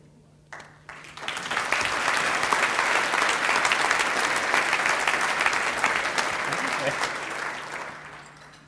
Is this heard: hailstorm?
no